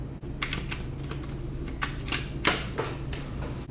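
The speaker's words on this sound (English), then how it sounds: "I'm gonna go ahead and shuffle some cards" A deck of tarot cards being shuffled, giving a run of quick papery riffles and flicks in short bursts with one sharper snap near the end, close and fairly quiet over a low steady hum.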